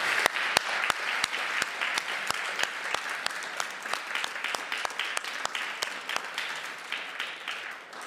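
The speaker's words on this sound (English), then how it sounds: "I think they deserve a well round of applause based on their talk so far." Audience applause at an academic symposium, a steady patter of many hands clapping at moderate volume for several seconds with no talking.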